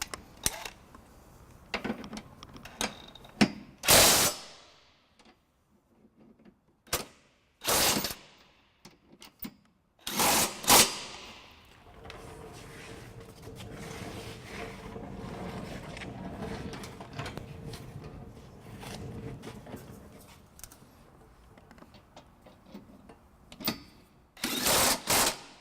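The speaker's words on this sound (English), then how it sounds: "we'll just snug them up with the drill motor here" Several short bursts of a power drill with a 19mm socket whirring and ratcheting as it snugs up trailer hitch bolts on a 2008 Scion xB, separated by quiet pauses, with faint mechanical clatter between them; close and fairly loud.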